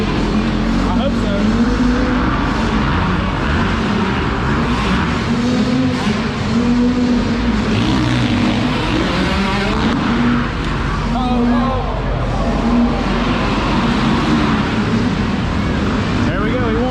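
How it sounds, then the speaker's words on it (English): Motocross bikes race at a track, their engines droning and whining continuously with rising and falling revs, while people talk and call out over the steady motor noise. "we watched the motocross races"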